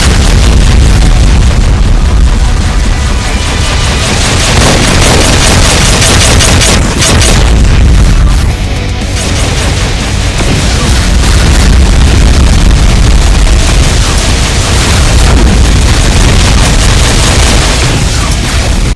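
Cyberdemon's rapid spread of round BFG shots bursting in a Doom mod, a loud continuous barrage of booming pops and explosions layered over game noise, with a brief dip midway before the pounding resumes.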